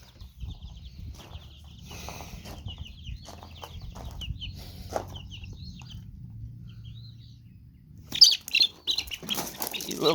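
Loose chicken in a backyard run, with soft clucks and chirps over low rumble, then a sudden burst of louder squawking and wing flapping near the end.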